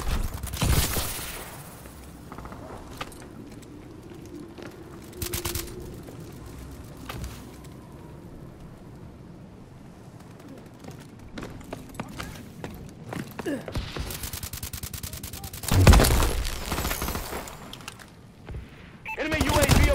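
Gunfire in the video game Call of Duty: Advanced Warfare, with scattered shots and bursts breaking through steady background game sound, including a loud burst near the end, while a player talks over it.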